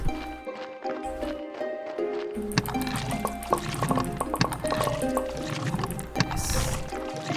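Water filling a vessel in the Graveyard Keeper game, a steady liquid pour with trickling and dripping layered over busy game music and effects, moderately loud throughout.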